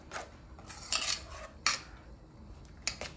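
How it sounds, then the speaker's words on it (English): A utensil mixes food in a bowl for eggplant rollatini, giving light clinks and scrapes against the bowl in a few bright bursts at a near, modest level, with no talking. "Mix it up well."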